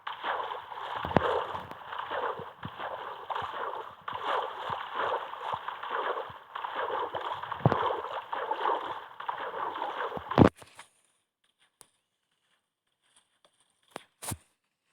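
A boat is rowed across the sea in the Minecraft video game, rhythmic sloshing paddle strokes and water churn running steadily for about ten seconds before stopping into near silence.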